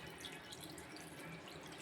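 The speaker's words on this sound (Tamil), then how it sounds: "இப்போ நம்ம தண்ணியை ஊற்றி அலசணும்" Water is poured over curdled milk for rasmalai, a steady close splashing and trickling like a running tap, continuous and soft with no voices.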